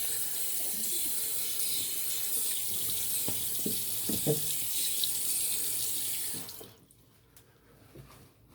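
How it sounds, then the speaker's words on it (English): A tap runs steadily into a sink to wet a shaving soap puck, a close continuous splashing hiss with a few small clinks, then cuts off abruptly near the end, leaving quiet room tone. "So put a little water in there just to soften up the puck a little while I do the second pass."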